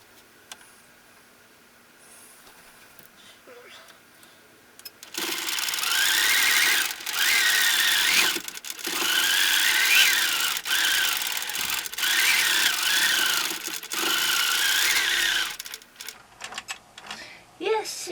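A sewing machine runs at speed while quilting and shredding its thread, a loud, steady mechanical whir with rapid needle chatter that starts abruptly, pauses briefly a few times, and stops near the end.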